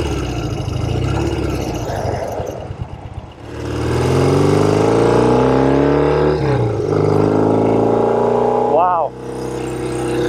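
A restored 1972 Norton 750 Combat motorcycle engine rumbles while riding, then revs up and climbs strongly in pitch, loud and close, with a brief exclamation from a voice.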